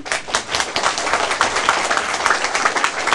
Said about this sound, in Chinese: 啊，你们拍手呀！